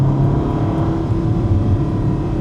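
A 2026 Ferrari engine revs loud and close after a downshift from second to first gear, a sustained deep growl with a steady throbbing pulse and no pause throughout.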